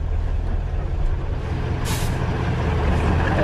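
A truck turning around on a dry riverbed, its engine rumbling steadily up close with a short hiss of air brakes midway.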